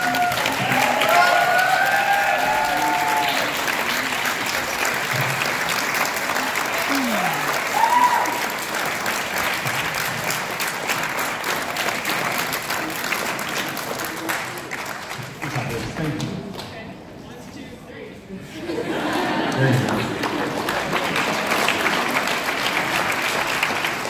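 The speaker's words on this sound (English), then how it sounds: "Come out and take your clap." Concert audience applauds the choreographers with sustained clapping and some cheering, a broad steady roar that dips briefly near the end before swelling again, with a voice faintly heard early on.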